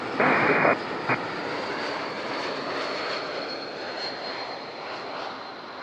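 An Embraer 190 jet lands on runway 14 at Zurich airport, a steady engine roar filling the scene with a brief louder burst near the start, heard alone without talk.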